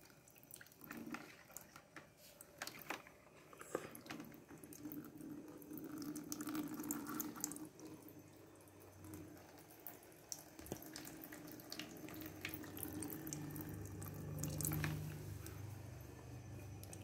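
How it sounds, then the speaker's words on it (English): Water runs from a tap into an empty plastic saline drip bottle, a steady splashing, filling stream with scattered drips that rises in pitch as the bottle fills, close and continuous throughout. "now I am going to insert the water"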